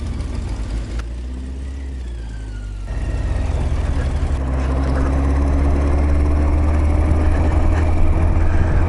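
A Yamaha XJ900S Diversion motorcycle engine runs on its first ride after repair, a loud steady drone that grows fuller and louder partway through, with a voice heard briefly over it.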